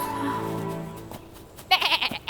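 A goat in a Heidi cartoon, Urdu dub, gives a long wavering bleat up close, followed by bright jingly music notes.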